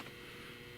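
A Dewalt DCB1800 portable power station sits running with a faint, steady electrical hum, very quiet and unchanging, with no other sounds.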